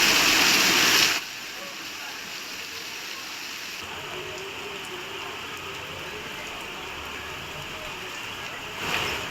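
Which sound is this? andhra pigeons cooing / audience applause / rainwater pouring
rainwater pouring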